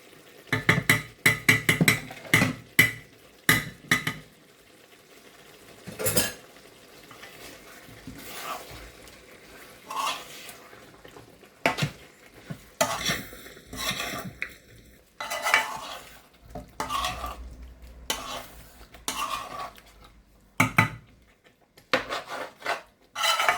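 Yogurt is stirred into frying masala for palak chicken, heavy repeated scraping and stirring strokes of a spoon against a pot over a low sizzle, irregular and close.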